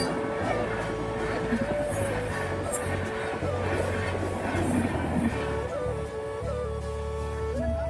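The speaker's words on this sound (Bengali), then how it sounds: "তো স্পিড দেখতে পাচ্ছ ট্রেনের, কি স্পিডে যাচ্ছে, খুব স্পিড।" A train racing past at high speed nearby, giving a loud, continuous rumble with clattering wheels and shifting metallic squealing tones throughout.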